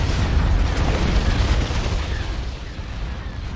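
Space battle explosions in the Star Wars: Empire at War video game, a dense continuous roar of deep booming blasts that rumble together loudly and then ease slightly, with no voices over them.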